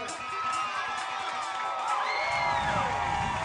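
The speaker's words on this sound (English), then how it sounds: "The crowd woke up." Spectators in the stands at a high school football game between Chambers Academy and Abbeville Christian Academy roar and cheer, a broad sustained crowd swell with shouts and whoops rising toward the end, heard at a distance.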